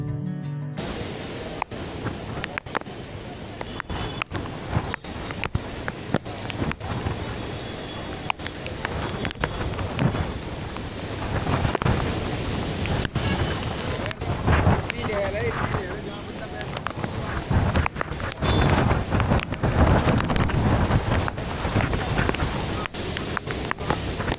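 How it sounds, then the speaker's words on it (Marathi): Strong monsoon wind buffets the microphone at the Marine Drive seafront in Mumbai, a constant roaring gust noise with crashing surf and rain beneath, while someone speaks now and then. "या ठिकाणी आहे ना वारा इतका जोराचा सुटला आहे की छत्र्या पण उडत आहेत"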